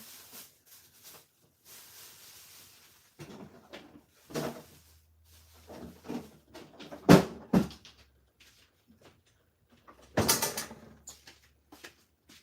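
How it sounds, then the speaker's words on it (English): A kitchen drawer or cupboard closes amid scattered handling clatter, with several soft knocks and slides and one sharper bang near the end, fairly quiet and close. "Put it back in the drawer."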